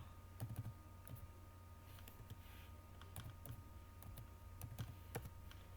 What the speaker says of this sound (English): So here I'll just type football.